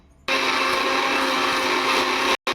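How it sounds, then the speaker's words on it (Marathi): A mixer grinder grinds spices to a fine paste, starting abruptly with a loud, steady whirring roar that holds for about two seconds before cutting off. "आता हे वाटून घेते बारीक"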